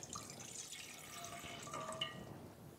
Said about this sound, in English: I am putting 2 cups of water in the pot